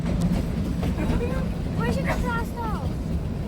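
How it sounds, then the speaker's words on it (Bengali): Shimla toy train running through hills, a continuous low rumble and clatter heard from inside the carriage, with a voice talking over it. "ট্রেন ছুটে চললো নিজের গতিতে"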